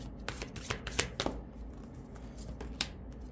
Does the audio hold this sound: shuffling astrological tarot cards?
yes